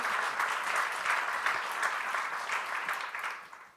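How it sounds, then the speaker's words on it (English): Warm audience applause welcoming panel speakers at a conference on international humanitarian law, dense and steady clapping that swells and then fades toward the end. "May I ask for a warm applause welcoming the speakers"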